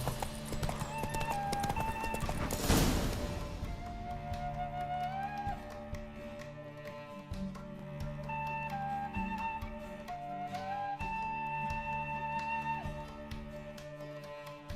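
Horse galloping in a race in The Witcher 3, a steady rapid clip-clop of hooves with occasional whinnies, close and continuous over background music, after an early loud burst.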